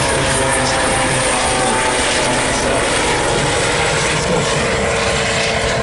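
An aircraft flies at a Redwoods airshow, its engine and rotor noise a loud, steady, broadband roar filling the whole stretch without pause.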